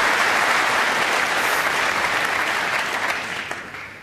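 A snooker crowd bursts into loud, sustained applause, a dense wash of clapping that holds steady and then begins to taper toward the end.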